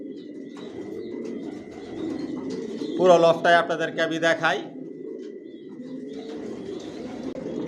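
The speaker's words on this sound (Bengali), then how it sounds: "রেসারের মধ্যে সব আইটেমের রেসার মাশাআল্লাহ পিজন লফটে আছে।" Racing pigeons cooing in a loft, a soft low burbling coo rising into a louder run of calls midway, with a faint steady hum behind and someone speaking over it.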